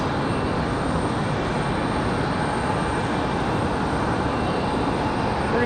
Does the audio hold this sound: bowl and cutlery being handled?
no